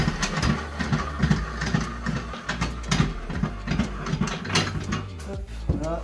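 A spare wheel fastener in the trunk of a 2010 Dodge Challenger R/T is loosened, giving a continuous run of close, rapid ratcheting clicks and mechanical rattling throughout.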